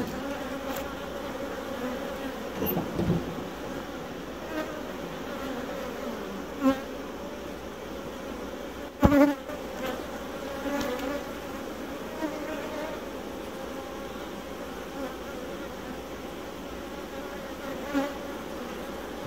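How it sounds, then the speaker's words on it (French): Honeybees buzz continuously around an open hive, a close, steady drone with occasional louder passes and faint handling knocks. "Là il y a 2-3 abeilles"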